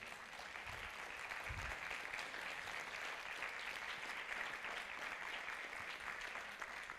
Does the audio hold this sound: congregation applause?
yes